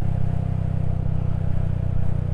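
A Royal Enfield Hunter 350 motorcycle engine pulls steadily in fourth gear, a continuous low thumping drone with wind rush, close and loud, with no pauses.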